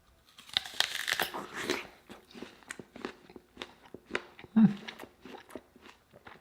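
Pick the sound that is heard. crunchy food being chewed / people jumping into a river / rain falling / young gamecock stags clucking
crunchy food being chewed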